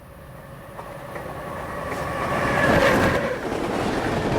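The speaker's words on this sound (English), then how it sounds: "we jump from watching a train go past to being on board the train itself" A train rolls past with rumbling wheels and rail noise, swelling as it draws nearer and peaking near the end, no voices.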